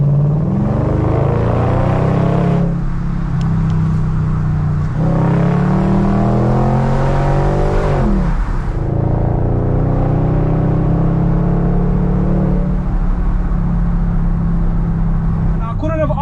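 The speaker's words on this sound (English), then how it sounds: "we need to let people just listen to the engine" BMW 645Ci V8 engine while driving on a sunny day, a loud continuous low rumble inside the car with several rising and falling rev sweeps as it accelerates and shifts, steady and close throughout.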